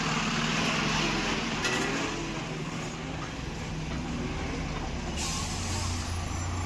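A Kerala tourist bus idles with a steady engine drone and a near, continuous rumble, while short bursts of air-brake hiss break through now and then.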